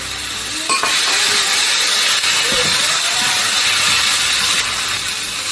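Shrimp frying in coconut oil with thyme leaves for Nigerian fried rice, a steady loud hiss and sizzle filling the pan throughout with a few faint clinks.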